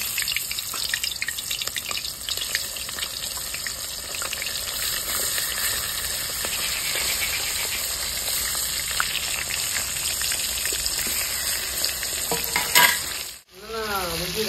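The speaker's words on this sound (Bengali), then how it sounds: "তেল গরম হয়ে গেছে, মাছগুলো ভেজে নেবো।" Pomfret fish frying in hot oil in a kadai on a village earthen stove, with a loud, continuous sizzle and crackle close by and a brief break just before the end.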